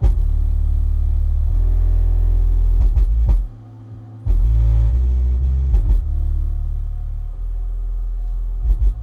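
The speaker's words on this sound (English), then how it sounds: "You can hear that protection start to kick in and lower the volume." A NEXO S118 subwoofer driven at maximum amplifier input before clipping pumps out deep, loud, sustained bass that dips sharply for a moment as its protection limiting pulls the volume down, then returns and continues heavy.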